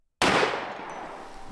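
A single sharp firearm shot, loud and close, with a decaying echo trailing off afterward.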